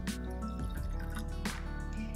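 Water pours and splashes steadily into a saucepan, about 250 ml, with a soft continuous hum in the background.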